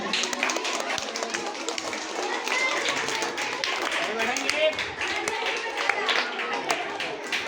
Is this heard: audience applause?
yes